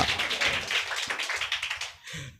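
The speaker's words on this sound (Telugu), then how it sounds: "గట్టిగా చప్పట్లు కొడతారా? గట్టి కొట్టండి." A church congregation at a Sunday service claps loudly in a dense, fast, steady patter of many hands that breaks off briefly near the end, with no speech over it.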